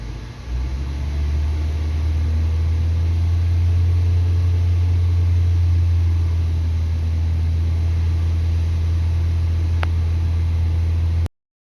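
A Toyota Prius engine held at raised RPM during an oxygen sensor check for a catalyst efficiency fault: a steady, loud low hum with even drone throughout, then an abrupt cutoff at the end, with no talking.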